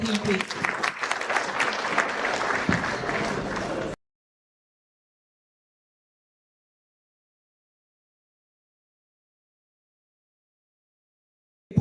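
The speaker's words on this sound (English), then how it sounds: "Please, a round of applause for him, please." Applause for a presenter at a sector-wide engagement meeting in Plateau State, fairly loud and mixed with voices for about four seconds, then cutting abruptly to silence.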